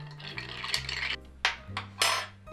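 Stirring a martini with ice in a mixing glass: clinking, scraping ice against glass with several sharper knocks, near and fairly clear over a low background hum.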